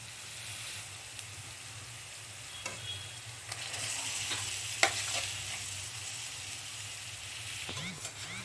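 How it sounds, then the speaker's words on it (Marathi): Potatoes stir-fry in a spiced tempering for batata vada filling, a continuous close sizzle with scattered scrapes and taps of the spatula against the pan, no talk heard. "आता बटाटे चांगले परतून घेऊया."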